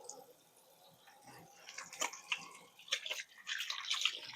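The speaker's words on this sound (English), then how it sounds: "Get that up a little bit so I could wash my hands because I just dealt with some ground beef" Tap water runs into a kitchen sink as hands are washed clean of raw ground beef, a steady hiss and splatter that swells louder partway through, with a few drips.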